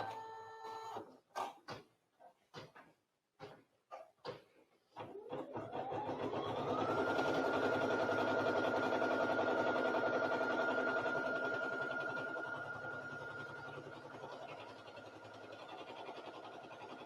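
Brother SE1900 sewing and embroidery machine stitching after the presser foot is lowered, a few clicks and taps first, then a steady loud whirring motor hum with a rising whine that holds for about ten seconds and slightly eases.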